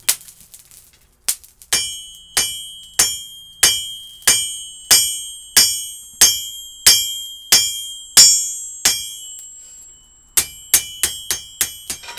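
A hammer strikes hot steel on an anvil while forging the edge bevels of a knife blade, producing loud, ringing metallic blows in a steady rhythm of roughly a dozen strikes, then a quicker run of lighter taps.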